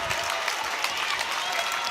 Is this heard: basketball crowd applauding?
yes